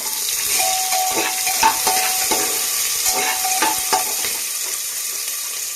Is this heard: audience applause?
no